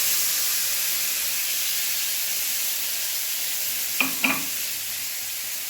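A spice paste of green chilli, ginger, tomato, melon seeds and white sesame sizzles steadily in hot oil in a pan, with a constant loud hiss and a couple of brief stirring clinks.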